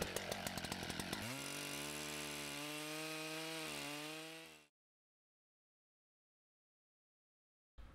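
A forest worker's chainsaw fires up for tree felling, opening with a few rapid sputters before rising into a loud, close, steady whine with slight pitch shifts, then cutting off abruptly into silence.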